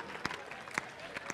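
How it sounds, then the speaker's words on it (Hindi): Faint, distant applause from an audience at a live Hindi comedy poetry recital, a thin wash of clapping with a few sharper claps standing out. "तालियां बजाओ जरा एक बार जोरदार साहब मिलके"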